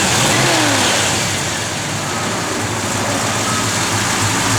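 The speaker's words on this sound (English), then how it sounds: "Go ahead, fire it up, Jordy." A 1972 Plymouth Road Runner running on pump gas rumbles steadily nearby, its engine holding a loud, even idle with a slight swell of revving and no talking over it.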